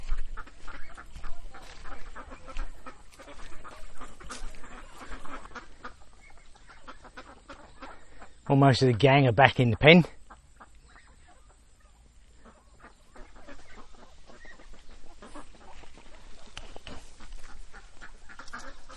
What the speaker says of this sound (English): putting the chickens and ducks back in the pen